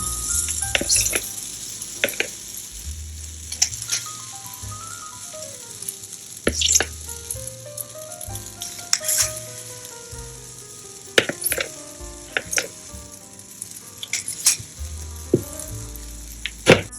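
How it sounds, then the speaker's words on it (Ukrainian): Sourdough Belgian waffle batter sizzling on a hot waffle iron, a soft continuous crackle broken by sharp clicks and clatters of the utensil and iron, close and fairly quiet. "набираємо тісто та викладаємо безпосередньо на вафельницю"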